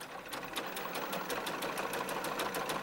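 Sewing machine stitching a zigzag seam on small doll clothing, a rapid, even train of needle clicks over a soft mechanical hum, fairly faint and close.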